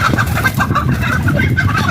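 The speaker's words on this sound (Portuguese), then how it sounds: "Pega a galinha." Several chickens cluck repeatedly and agitatedly at close range as they are chased and caught in a farmyard, a dense continuous flurry of clucks over background rustling.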